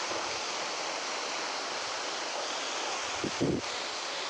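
Water from a 5 hp solar pump gushes out under high pressure, a loud, steady rushing hiss close by that continues unbroken, with a few brief knocks near the end.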